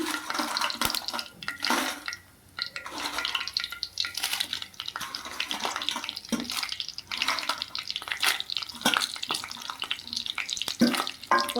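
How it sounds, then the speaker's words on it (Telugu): Coriander seeds and dried red chillies fry in a pan for gongura chutney, giving a soft continuous sizzle and crackle with occasional stirring scrapes, close and steady. "ఒక టేబుల్ స్పూన్ ధనియాలు అయితే వేసుకున్నానండి ఇవి అలా వేగుతూ ఉన్నాయి ఇంకా ఎండుమిర్చి అయితే యాడ్ చేసుకున్నాను"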